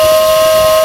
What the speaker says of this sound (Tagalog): Grabe busina nun ah.